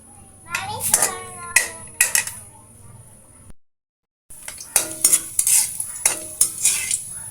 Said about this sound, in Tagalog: Ayan, nagigisa na ang ating luya mga sis.